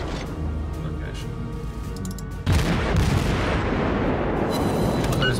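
Naval guns fire in World of Warships, a heavy boom that gives way to a sustained roaring rumble. Someone talks over the sound.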